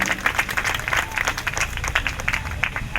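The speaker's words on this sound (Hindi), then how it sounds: "आपके लिए एक बार जोरदार ताली और पूरे टीम के लिए एक बार जोरदार ताली।" Audience members at a women's organisation awareness and honour event in Dhamtari clap together in a steady, moderately loud burst of applause, with individual claps audible in a fairly quick rhythm.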